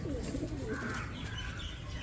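A female pigeon from a pair-bred border breed gives soft, low rolling coos, close and moderately loud over a faint background rustle.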